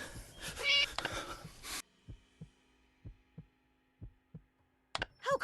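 A cat meowing in the horror game Scary Teacher 3D: close, loud meows open the sequence, then a run of soft evenly spaced heartbeat-like thumps, and sharp meowing returns at the end.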